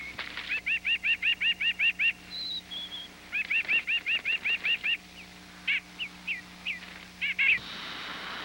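Wandering birds nesting in a wind-scarred aspen grove send out bursts of rapid, evenly spaced chirping calls in repeated runs, with scattered single notes between them, fairly close and clear over a quiet background.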